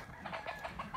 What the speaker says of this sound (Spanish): Hay montones de gallos.